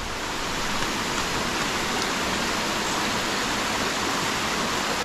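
Clear, fast-flowing river water in a forest area rushes in a steady, dense hiss close by, unbroken and without speech.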